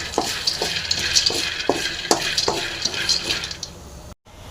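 Dried red chillies roast in a hot pan with a bright crackling sizzle, punctuated by sharp scraping stirs in a loose rhythm, close-up and without talk, cutting briefly to silence near the end.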